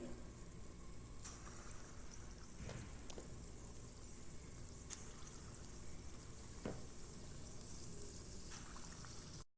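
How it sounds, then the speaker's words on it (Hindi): Bhalla, lentil dumplings, frying in oil: a low, steady bubbling sizzle with a few soft knocks, fairly faint and heard alone. "सारे इसमें डाल दिए और अब हम इनको इस तरह फ्राई कर रहे हैं।"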